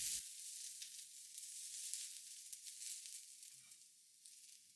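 Potatoes and onions with chili flakes sizzle softly in a pan, a steady, faint crackling hiss heard up close with no talk.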